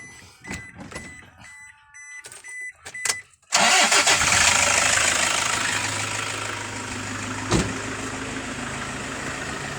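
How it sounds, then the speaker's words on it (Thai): Inside a used 2009 van, a few electronic dashboard beeps and clicks give way to the engine cranking and catching abruptly, then settling into a loud, steady, rumbling idle with a brief knock partway through. "สตาร์ทให้ฟังเสียงดูนะครับ"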